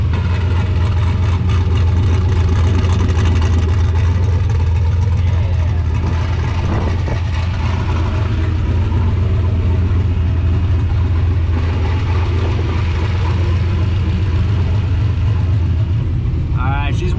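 A built turbocharged LS V8, warmed up and now firing on all eight cylinders, idles with a steady, deep, loud rumble close by for the whole stretch while people talk over it.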